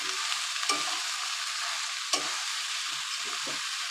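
Bottle gourd hits a hot pan of turmeric-spiced oil for a Bengali katla fish curry, sizzling steadily up close while a spoon scrapes and stirs in a few distinct strokes.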